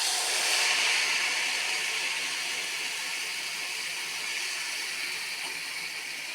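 Ragi batter poured into hot, steaming oil for neyyappam sets off a continuous bright sizzling hiss, strongest at first and then easing slightly but staying steady and close.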